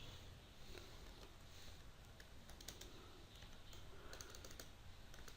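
Quiet computer keyboard typing while entering ActionScript code, a soft irregular patter of key clicks over a low background hiss.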